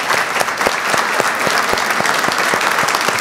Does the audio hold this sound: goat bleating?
no